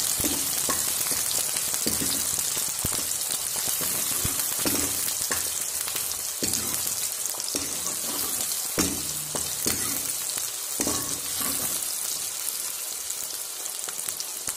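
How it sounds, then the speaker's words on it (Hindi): Green chillies and onions frying in oil in a pan for a Kachi matari vegetable dish, with a constant close sizzle and repeated soft scrapes of stirring. "हरी मिर्ची और प्याज को अच्छे से ब्राउन होने तक पकाना है।"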